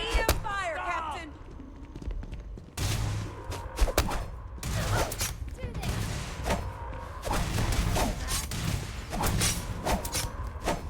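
Rapid bursts of EM weapon gunfire in the sci-fi video game Starfield, dense thumping shots and impacts in a chaotic firefight, with voices talking over the action throughout.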